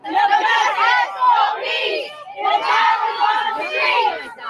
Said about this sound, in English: The crowd included family, friends, and community members who brought signs and loud voices for their cause